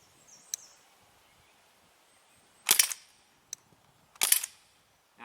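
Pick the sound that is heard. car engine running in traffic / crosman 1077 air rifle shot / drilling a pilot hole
crosman 1077 air rifle shot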